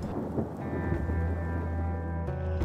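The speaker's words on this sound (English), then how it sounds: "We hunkered down for the night at this vineyard in Jackson, Tennessee, as the thunderstorms billowed in the distance." Thunderstorm rolling over a vineyard in Jackson, Tennessee at night, with steady rain on surfaces and a low, continuous rumble of distant thunder underneath, plus a faint tonal hum running through.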